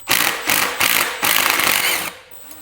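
A power tool works on a vintage Bultaco trials motorcycle's front end, whirring in several short bursts, then one longer run before stopping, loud and close with a high mechanical whine.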